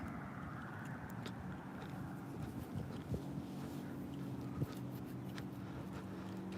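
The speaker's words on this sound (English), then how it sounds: "This truck is turning right now." A turning truck's low engine rumble drones steadily at a distance, faint and continuous, with a few soft knocks and a hint of wind.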